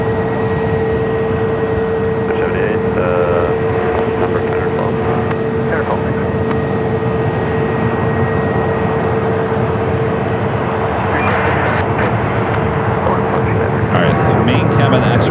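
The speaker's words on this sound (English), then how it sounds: "This one heading to Dallas, Fort Worth, Texas, the A328 Neo with Frontier." A Frontier Airbus A320neo jet departs Phoenix Sky Harbor for Dallas Fort Worth. Its continuous engine rumble stays steady throughout, with a sustained whine tone on top and some faint background clatter near the end.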